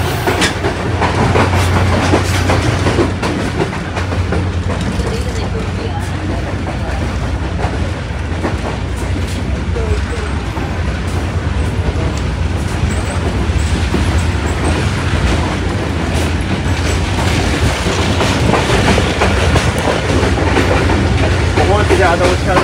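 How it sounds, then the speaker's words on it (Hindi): A GMC 4901 diesel locomotive hauls the Malkwal Express on an early-morning run from Mandi Bahauddin toward Pind Dadan, a steady, dense rumble and hum mixed with rhythmic wheel-on-rail clatter that stays loud throughout. "और हमिंग साउंड्स आपको सुनाई दे रहे होंगे GMC 4901 के"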